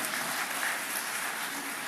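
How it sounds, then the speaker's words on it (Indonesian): Audience applause for the heads of the regional land offices of Central Java at a government event, a steady, dense crowd clapping that fills the room evenly from start to finish, with no voices over it. "tepuk tangan untuk para kantah kita ini"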